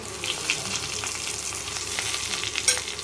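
A tempering of dried red chillies, garlic, cumin and mustard seeds sizzles in hot oil for prawn gongura curry, with a continuous close crackle, scattered pops and light stirring, and no talk.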